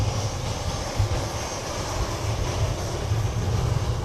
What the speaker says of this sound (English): this is American Airlines flight 2478 from Charlotte